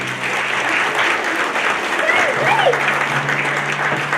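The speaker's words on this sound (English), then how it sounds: "Give them a round of applause, please." Parents and guests at a Perryton High School spring band concert give sustained applause, a thick steady clapping heard throughout, with faint voices and a whistle or cheer rising briefly within it.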